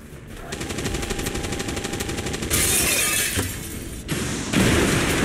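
Rocket launched in the X-COM video game: a loud, close blast erupts after a rapid rattling stretch, followed by a second crashing burst near the end, with no talking.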